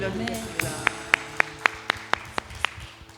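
A church congregation claps in thanks during a Sunday worship service, a rhythmic series of sharp, evenly spaced claps standing out over a sustained tonal background.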